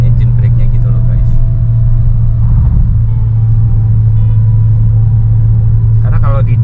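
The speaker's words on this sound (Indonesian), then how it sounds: "Jadi kita sambil ngerem, tuh dia ada tambahan engine brake-nya gitu loh guys." A 2021 Toyota Rush GR Sport slows under engine braking on a highway road trip, heard from inside as a loud, steady low rumble while voices talk over it.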